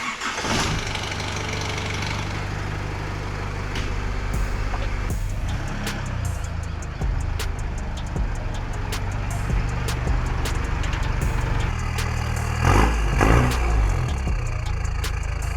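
An engine-swapped Nissan Patrol's engine starts and keeps running with a steady low rumble, close by in a shed, with some clanks and rattles of work around it.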